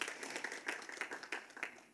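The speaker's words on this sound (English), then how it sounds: "Please give him a big round of applause." Audience clapping at a Taipei Cycle 2023 forum as a speaker is welcomed to the stage, a steady patter of moderate applause heard from a distance in a hall.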